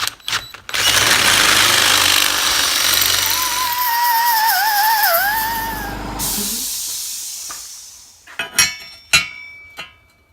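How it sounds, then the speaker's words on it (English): A drill press runs loudly with a harsh, steady whir and a rising-falling whine while drilling exhaust pipe parts for a Camaro Y-pipe, then spins down, followed by a few sharp knocks. "Let me just go over to my drill press here"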